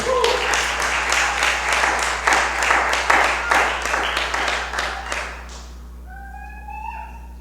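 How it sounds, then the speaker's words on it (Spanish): A church congregation claps in loud, fast, irregular applause through most of the moment, then fades out, leaving quiet room tone and a few faint high tones at the end. "Dale un aplauso a Él, por favor."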